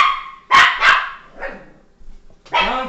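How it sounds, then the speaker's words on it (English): A dog barks sharply several times close by, two quick loud barks followed by softer yips and another bark, with no talking. "Bad dog!"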